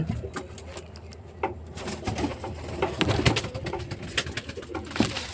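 Pigeons coo repeatedly nearby from a home loft, with soft wingbeats and scattered flutters as birds take off and land, the sounds steady throughout without anyone talking.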